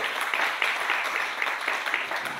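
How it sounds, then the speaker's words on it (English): A church congregation claps their hands together in a dense, steady burst of applause that carries on for a few seconds, with no speech over it. "Clap your hands to them."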